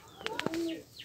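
Kept pigeons give a short, soft cooing call, close and alone over a quiet background.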